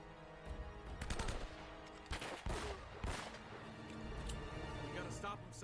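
Gunfire in the video game Uncharted: Drake's Fortune comes as bursts of automatic fire and scattered single shots over several seconds, mixed with game ambience and voices.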